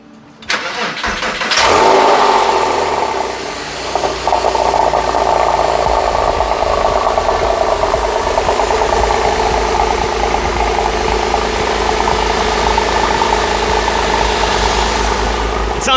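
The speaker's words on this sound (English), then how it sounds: "So we're going to go ahead and turn the car on." A Porsche 997 911 turns over on the starter and fires up, then settles into a steady, loud idle close by, with an exhaust that has been modified.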